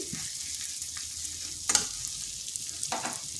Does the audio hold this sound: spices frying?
yes